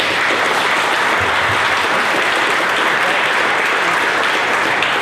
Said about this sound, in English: let's get a round of applause for everybody